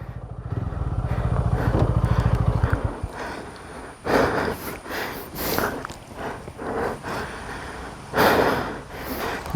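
A dirt bike picking its way over a rocky adventure trail in Goa, its engine droning steadily at first, then revving in uneven bursts as the wheels clatter over stones.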